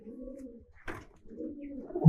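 A Giribaj racing pigeon gives a low, throaty coo, then a brief soft rustle and a second longer coo. It is close by, with no one speaking.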